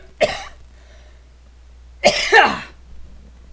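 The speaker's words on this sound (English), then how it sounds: "Yeah, I have a bit of a cough," A person with a cough coughs away from a microphone, one short hack followed after a pause by a longer double cough, close and otherwise quiet.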